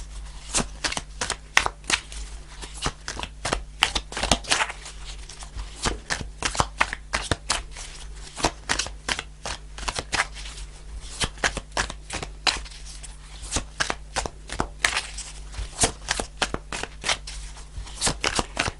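Tarot cards being shuffled in quick, crisp riffles and flutters, repeating steadily throughout at close range with no talking.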